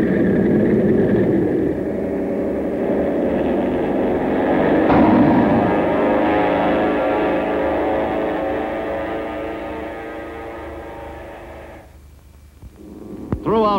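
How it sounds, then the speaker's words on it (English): A World War II carrier aircraft launched by catapult: a loud, sustained engine roar builds and swells, then cuts off abruptly, followed by a brief quiet and a few sharp mechanical clanks. "a catapult was used to push the planes into the air"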